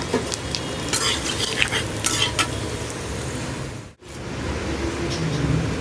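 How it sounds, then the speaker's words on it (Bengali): Cumin seeds and bay leaf crackle in hot oil left from frying eggplant, with potato pieces going in; a steady close sizzle with light stirring and a brief break midway. "এবারে এই একই তেলে আমি ফোড়ন দিয়ে, জিরে আর তেজপাতা ফোড়ন দিয়ে আলুটা"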